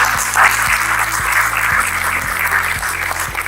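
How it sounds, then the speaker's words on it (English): Steady crowd applause at a panel discussion fills the clip at constant loudness, with a low rhythmic electronic hum and pulses running underneath. "So let me have a good round of applause for the educators."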